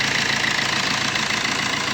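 A 2016 Tata Bolt XE Quadrajet diesel car idles with a steady, close, even rhythmic engine thrum and fine mechanical clatter, with no voices over it.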